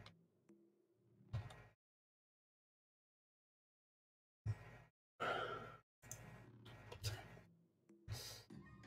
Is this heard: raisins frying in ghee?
no